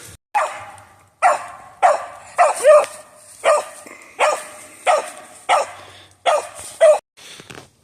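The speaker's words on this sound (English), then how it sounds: "I need to get her barking a little bit better" A young hound named Tilly barks at a treed squirrel during a squirrel hunt: about ten sharp, evenly spaced barks, loud and close, with short yelping tones and quiet gaps between them.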